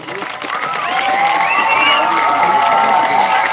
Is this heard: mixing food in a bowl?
no